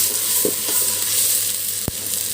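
Tomatoes and onions frying in a pan for mushroom biryani, a steady close sizzle with a couple of soft stirring scrapes and one sharp utensil knock near the end.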